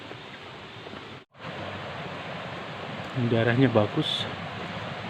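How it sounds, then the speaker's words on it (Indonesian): Mountain stream flowing strongly beside a trail on Gunung Salak, a steady rushing wash that fills the background while a person speaks briefly over it. "air mengalir cukup deras"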